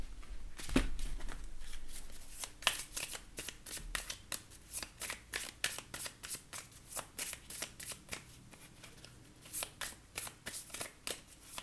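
Tarot cards being shuffled for a reading, a long sequence of crisp riffling bursts and soft slaps in a steady rhythm, close and clear with no speech.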